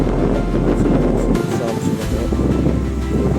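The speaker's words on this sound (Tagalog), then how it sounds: "Sobrang lakas ang hangin." Strong wind buffets the microphone at a campsite, a loud continuous roar with low-frequency rumble and brief dips in intensity.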